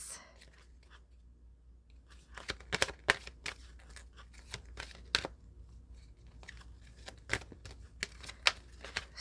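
Tarot cards from a small deck are shuffled in short bursts of close, crisp riffling and flicking with uneven pauses.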